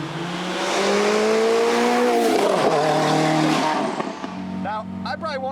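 A Kimera rally-style car, likened to a Group B rally car, drives hard with a rising, straining engine note, a rough transition and tire noise, then settles into a lower idle-like drone as someone talks over it.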